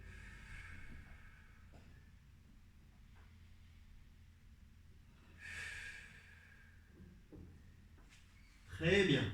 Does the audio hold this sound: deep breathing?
yes